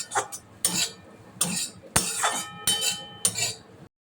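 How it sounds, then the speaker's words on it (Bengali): A spoon clinks and scrapes in a pan as dry fruits and small cardamom pods are gently stirred in ghee, a handful of sharp metallic strikes spaced irregularly, close and clear. "খুব হালকা করে ড্রাই ফ্রুটগুলো গাওয়া ঘির সঙ্গে নেড়ে নেব"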